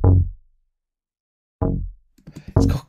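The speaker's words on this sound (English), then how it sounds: "I added the classic West Coast bass" Classic West Coast synth bass preset with a sub layered underneath, playing short punchy notes that decay quickly, two isolated hits followed by a quick burst of busier bass notes, loud and alone.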